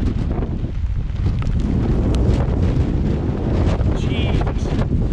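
Strong wind buffeting a Hexpeak V4A tent during a storm of around 50 mph with heavy rain, a loud steady roar of gusts and fabric flapping close to the microphone, with a voice heard faintly underneath.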